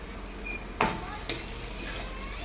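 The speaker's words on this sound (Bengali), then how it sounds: "দিয়ে এটাকে আমি একটু ভেজে নেব ভালো করে" Spices with turmeric, salt and Kashmiri chilli powder fry in a pan, a soft continuous sizzle broken by two sharp scraping stirs from a spoon, fairly quiet and close.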